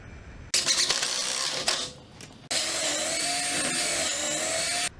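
A power driver whirs while screwing a template onto the bottom of a base for a homemade wedding cupcake tree stand, in two close, sustained bursts of motor whine with a brief pause between them.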